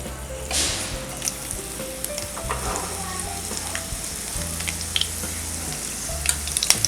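Green chillies frying in hot ghee for sabudana khichdi, a loud close sizzle with crackling spatters and intermittent stirring scrapes against the pan.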